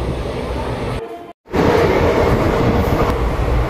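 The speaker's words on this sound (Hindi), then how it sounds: "ट्रेन में अब बैठ चुके हैं और रांची से ट्रेन खुल गई" A passenger train leaving Ranchi station, heard from inside the carriage as a loud continuous rumble and rattle, broken by a short gap before the noise resumes steadily.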